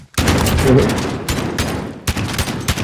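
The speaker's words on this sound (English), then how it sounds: "Gonna issue some suppressing fire as they walk into the middle" Rapid shotgun and pistol gunfire in a Call of Duty 3v3 Gunfight match, loud dense bursts of shots filling the clip with brief gaps between volleys.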